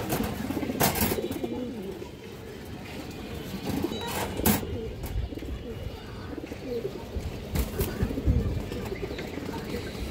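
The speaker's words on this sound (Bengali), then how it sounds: "ইন্ডিয়ান হাই ফ্লায়ার কালদম একটা নর কবুতর।" A male Indian high flyer pigeon and others coo in a loft, low throaty calls repeating throughout under scattered clicks and cage knocks, with a voice talking at times nearby.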